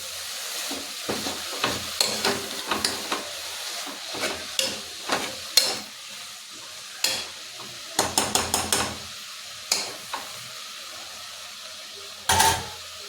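Pumpkin leaf bhaji stirred in a pan, giving a string of sharp scraping and clattering strokes at an irregular rhythm over a soft sizzle, close and fairly loud, with no talking.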